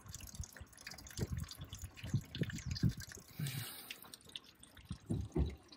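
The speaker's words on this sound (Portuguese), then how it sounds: "Tá pingando bastante, vou olhar com mais calma, ver onde que é que tá vazando" Water drips and patters steadily from a leak in a motorhome's water system, a busy run of close drops over low background rumble.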